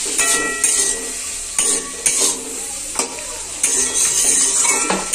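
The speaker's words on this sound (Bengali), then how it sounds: "এটা একটু ভালো করে হালকা ভেজে নিতে হবে" Chicken and vegetables for chow mein fry lightly in a pan, a constant loud sizzle broken by regular scrapes and clacks of a spatula tossing the food, close up with no talking.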